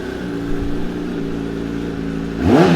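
A 2019 Kawasaki ZX10R KRT sport motorcycle idles steadily near the microphone, then blips sharply into a quick rising rev at the end.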